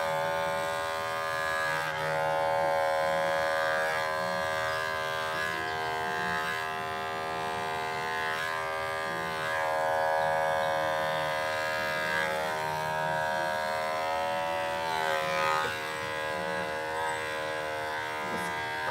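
Electric hair clippers buzz steadily through a lion cut on a pet, giving a droning motor whine with small wavering changes as the blades move through fur. The sound is close and continuous for the whole stretch.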